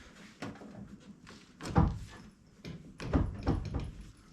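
A GM vehicle door being worked on during a hinge rebuild swings and thunks shut, with several close, solid knocks and clunks over a few seconds and no talk.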